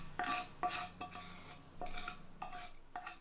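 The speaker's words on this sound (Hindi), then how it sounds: "और उसे एक बार चला लेते हैं इस तरह से।" Vermicelli roasted beforehand gets stirred through boiling milk in a pot on a low flame, a spoon scraping and clinking against the metal in several distinct strokes, close and moderately quiet, with no talking.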